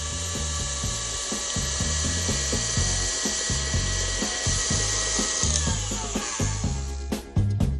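Electric mixer whirring steadily as softened unsalted butter is beaten into cooled meringue for chocolate cupcake frosting, a close, constant motor whine with a rhythmic chugging pulse and a few clunks near the end.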